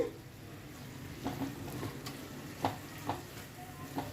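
Brinjal (eggplant) sizzles faintly with curry leaves in a frying pan, a soft steady hiss broken by a few light clicks and scrapes from stirring.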